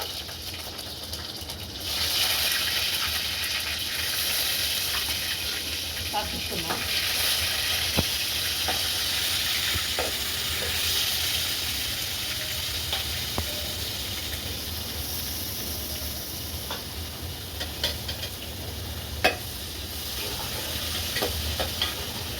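Ginger-garlic paste frying in oil for a village-style fish curry over a wood-fired stove, a steady close sizzle and hiss with occasional stirring clicks and scrapes, no talk.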